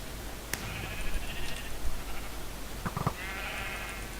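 Sheep bleating inside a video game, two short nasal bleats at moderate loudness over a steady background hum, with a few clicks between them and no speech.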